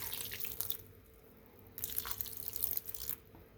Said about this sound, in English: So when I see a lot of water in there, I just dump it.